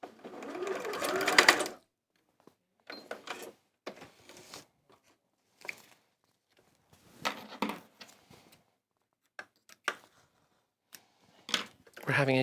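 A domestic sewing machine stitching a Christmas craft project, a dense whirring run at the start, then short intermittent bursts of stitching broken by pauses, with quiet talk between.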